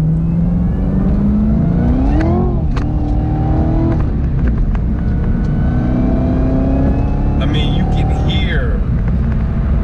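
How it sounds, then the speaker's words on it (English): Car engine with a Roto Fab cold air intake whining and revving during a test drive, rising and falling intake whine under loud road noise, with people talking over it. "That freaking whining a whole lot more now"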